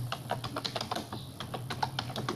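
Computer keyboard typing in quick, irregular bursts of clicky keystrokes, close and clear with no talking, as a channel name is entered for a prize wheel draw.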